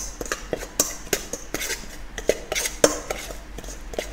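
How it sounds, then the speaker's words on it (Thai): Chilli powder and roasted rice powder are stirred into Isan-style bamboo shoot soup at a street food stall, with a metal utensil clinking and scraping against the pot in quick, uneven strokes, close and fairly loud. "คนให้เข้ากันซะก่อนครับผม"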